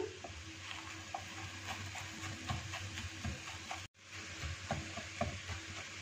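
Fried rice with shredded chicken, egg pieces and vegetables is stirred and mixed in a hot pan, a faint steady sizzle under soft scraping and clinking taps, with one brief dropout and no talking.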